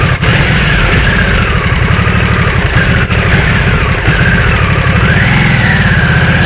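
A Harley-Davidson Nightster motorcycle engine runs steadily while riding uphill, a loud, close, continuous drone with a low rumbling pulse and slight shifts in pitch as the throttle changes.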